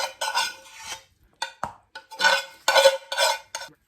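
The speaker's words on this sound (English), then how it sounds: "Next, the vegetables that we sauteed. I'm going to go ahead and add that." Sauteed vegetables get tipped into a bowl of cornbread dressing with shredded chicken, then a spoon scrapes and clinks against the dish in short bursts of stirring, close and fairly quiet, with no talk.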